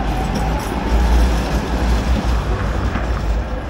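An old tram passes along a Prague street, a steady, fairly loud low rumble and rolling hum with faint squealing, blended into surrounding city traffic noise throughout.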